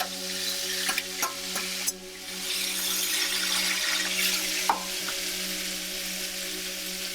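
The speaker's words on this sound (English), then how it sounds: "now oil is heated up. I'm going to put green pepper pieces. You can hear the" Steady sizzling of green bell pepper pieces frying in hot oil, with a few sharp clanks and scrapes of a utensil stirring the pan, close up.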